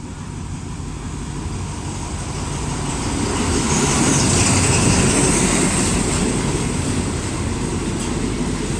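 An Alsthom diesel locomotive, number 4218, hauling ordinary train 212 rumbles past with a steady low drone and rattling wheels, swelling louder midway and staying loud as the train moves through.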